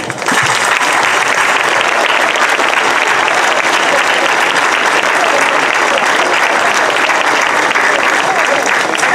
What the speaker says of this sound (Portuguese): Por isso, para vós, o nosso aplauso.